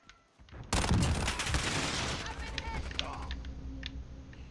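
Rapid bursts of gunfire from a Call of Duty: Modern Warfare multiplayer match, loud and dense near the start and then thinning into scattered shots, with a player talking over it.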